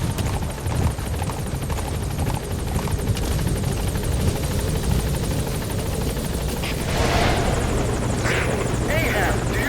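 A helicopter rotor thrums steadily throughout in Metal Gear Solid V: The Phantom Pain, loud and close, mixed with game sounds and a voice talking over it.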